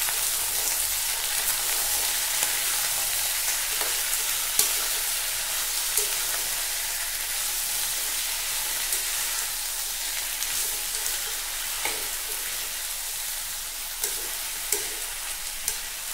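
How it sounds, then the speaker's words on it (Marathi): Green chillies, tomatoes and brinjal fry in a pan with a loud, steady hiss that fills the whole stretch. Occasional soft clicks and pops rise above it, and there is no talking. "तर यावर मी लगेच मिरच्या टाकून घेते। त्यानंतर टोमॅटो आणि ही वांगी।"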